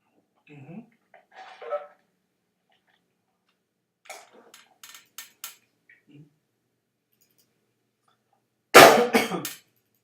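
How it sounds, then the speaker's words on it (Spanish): Coughing from a person who has a slight cough, a sharp loud burst near the end after quieter intermittent sounds, close to the microphone in an indoor setting. "Me perdonan ahí si estoy con un poquito de tos."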